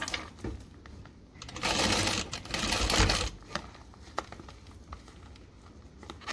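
A sewing machine stitching leather or vinyl runs in two sustained bursts of whirring, broken by scattered clicks and handling noise, with no voices.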